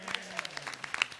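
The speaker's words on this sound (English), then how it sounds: "Give him a round of applause." Applause from an audience at an event discussing President Trump's first 100 days: a short burst of scattered handclaps, moderately loud and fairly close, with a voice faintly underneath.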